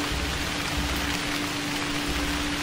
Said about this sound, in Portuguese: a chuva tá pesada.